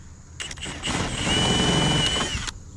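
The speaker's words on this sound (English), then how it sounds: "use our drill with this bit just to open the hole a little bit more" A power drill whirs up close for about two seconds, its motor whine rising steadily as the bit widens a hole while installing an RV fan, then cuts off.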